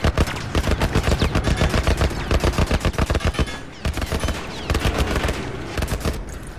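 Rapid bursts of automatic gunfire from The Last of Us Remastered on PS4, a loud, dense string of shots rattling almost continuously with a brief pause midway, then resuming.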